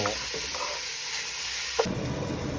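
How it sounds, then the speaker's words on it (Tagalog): Pork tossed with ginger and onion in a hot pan gives a steady close sizzle with scraping stirs and one sharp knock near the end, with no talk. "At ihalo naman natin ang ating pork para maluto."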